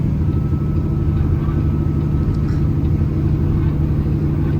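Loaded semi truck at 80,000 lbs climbing a hill in 10th gear in the rain, a steady heavy low engine drone and road rumble from inside the cab.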